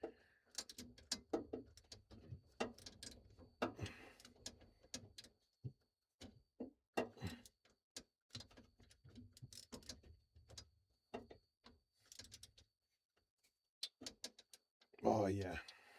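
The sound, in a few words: ratchet turning socket on wobble extension, VW bus carburetor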